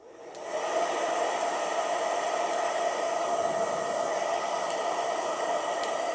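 A cheap $5 hair dryer comes on and settles into a steady whooshing roar of blowing air. It stays loud and even to the end.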